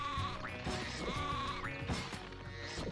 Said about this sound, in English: Nice sheep.